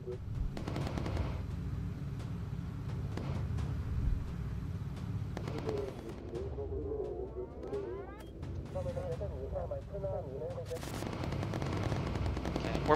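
Machine-gun fire rattles in rapid bursts as a bomber takes hits in the World War II video game Bomber Crew, with a crew voice and other game sounds in between.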